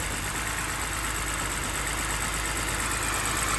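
A 2006 BMW 325i engine idles roughly, its steady close hum running continuously without pause and with no voices over it.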